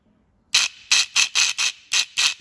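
EGR valve actuator motor on an Audi A4 with a P0403 fault whirring in seven short, evenly spaced mechanical bursts after a brief silence, close and crisp with a ratchet-like buzz.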